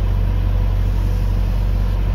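An old truck's Saviam 817 petrol engine runs on choke, giving a loud, steady low rumble with a constant high-pitched whine above it and no break or change across the moment.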